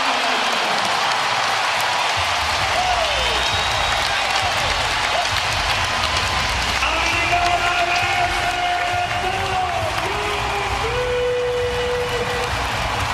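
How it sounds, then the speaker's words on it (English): Dallas basketball arena crowd at a 2011 NBA playoff game roars loudly and steadily, a dense wash of cheering and clapping with whistles and a few rising shouts, under a commentator's voice. "The crowd into it here. Great environment, Doris, here in Dallas."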